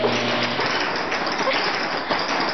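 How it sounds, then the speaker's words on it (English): Golf balls drop en masse onto the ground in a continuous, dense rattling patter resembling hail, loud and close, with no voices. "Watch the golf balls drop."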